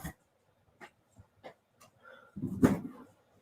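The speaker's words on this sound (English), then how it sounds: "My other dog is here." A dog whimpers and pants softly at home, with faint, scattered whines and breaths that build into a louder, closer whimpering burst near the end, with no talk.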